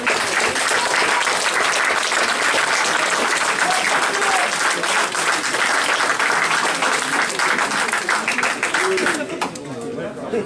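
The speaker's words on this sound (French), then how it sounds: "Applaudissez à présent celui que vous avez élu, 4e MJ, Silvio André-Ozzi." Loud, sustained audience applause at an awards ceremony at a 2018 game festival, steady dense clapping with some cheering and chatter mixed in, easing slightly near the end.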